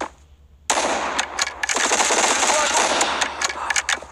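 Rifle gunfire in the mobile shooter Bullet Force, a sudden burst of rapid shots after a quiet moment, then a dense run of loud cracks and rattling fire lasting several seconds.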